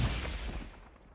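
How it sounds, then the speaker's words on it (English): A hammer's charged upswing attack in the video game Monster Hunter Wilds lands as a single heavy impact with a booming burst that decays over about a second, loud at first and then fading. "So first is the charge upswing."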